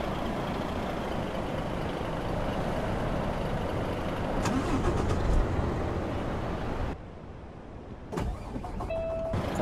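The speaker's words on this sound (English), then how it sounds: "550 horsepower motor" A 550-horsepower truck engine in American Truck Simulator, heard as a steady loud rumbling idle that drops away abruptly near the end before rattling and restarting, with no talk over it.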